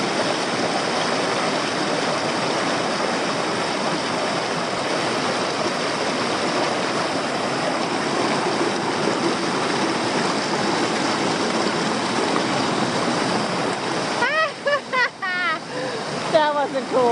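A river rushes steadily at close range where hikers must cross, a continuous broadband wash of flowing water; near the end, voices speak briefly over the current.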